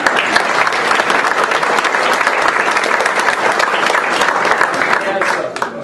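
Sustained audience applause at a U.S. Naval Institute authors-of-the-year event, dense and steady clapping from a large crowd for nearly six seconds before tapering slightly at the end.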